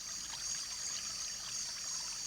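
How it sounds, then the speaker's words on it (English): Steady, even rush of falling water at a jungle waterfall, a continuous hiss with no breaks and no voices, moderately faint throughout. "the noise of falling water produces many high-frequency sounds"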